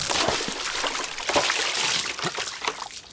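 Mineral water pouring and trickling close by, a continuous splashing stream with small uneven bursts, alone without voices.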